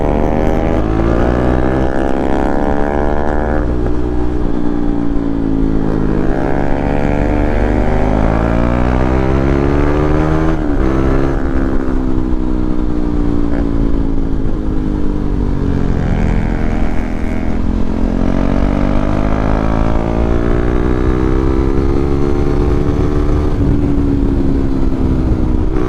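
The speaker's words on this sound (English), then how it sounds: "this bike bops loud" A KTM 390 Duke motorcycle engine roars loudly and continuously while being ridden, its pitch rising and falling through repeated throttle sweeps and gear changes, close and dominant throughout.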